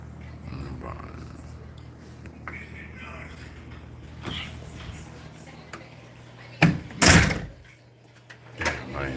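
A door bangs and clatters outdoors, with a couple of sharp knocks and a loud thump standing out above quiet background noise and brief murmurs of a voice.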